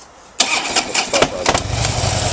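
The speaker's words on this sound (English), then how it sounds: "Good old shaky start. It is a Harley." A Harley-Davidson Fat Bob motorcycle engine cranks and catches with a loud, shaky start, then settles into a rough, close idle.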